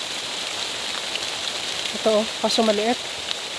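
Heavy rain pours down in a steady, dense hiss that fills the whole clip, while someone speaks briefly in Filipino close by over it.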